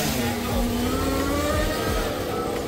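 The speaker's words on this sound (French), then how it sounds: "Comme vous pouvez l'entendre à l'arrière, il y a toujours mon moteur en rodage" Close, loud engine being run in, droning steadily with a rising tonal pitch and rough low rumble throughout, no pauses.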